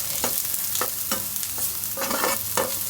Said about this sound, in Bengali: একবারে শুকনো শুকনো করে ভাজার চেষ্টা করলাম